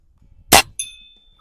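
A bullet strikes an aluminum chunk target at a shooting range with one sharp, loud metallic crack, followed by a thin, high ringing tone that fades over about half a second.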